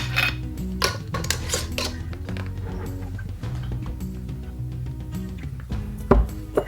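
Metal lids clinking and scraping onto glass jars of hot maple syrup during canning, a series of small clatters and taps up close over a steady background hum, with a sharper knock near the end.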